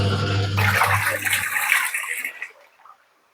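Water churns and sloshes in the tub of an LG 8.5 kg semi-automatic washing machine rinsing a load of clothes, with a steady low motor hum that cuts out partway through as the swishing dies away to quiet.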